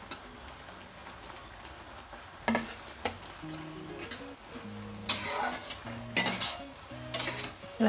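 Fried pointed gourd sautéed in a pan, with intermittent scraping and clanking of a utensil against the pan, quiet between strokes and growing busier toward the end.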